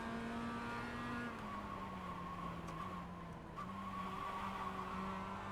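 A Mazda MX5 Cup race car in iRacing slides through a corner, its engine droning steadily while tires squeal and scrub continuously throughout, loud and close with slight pitch shifts.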